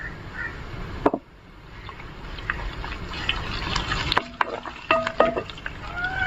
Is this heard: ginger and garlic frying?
yes